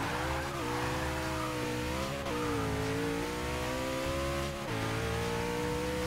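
A Koenigsegg One:1 with 1,300 horsepower to the rear wheels launches hard in Forza 6. The engine roars as it revs up through the gears, rising and shifting several times, and the tires squeal with wheelspin the whole way.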